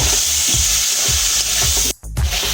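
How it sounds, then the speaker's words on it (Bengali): Spice paste of cumin and chili powder loosened with a little water sizzles steadily in a pan while cauliflower and potato filling for samosas is being prepared, with periodic low scraping thumps of stirring and a brief drop midway. "মশলাটা কষিয়ে নেব জল দিয়ে মশলাটা আমি কষিয়ে নেব"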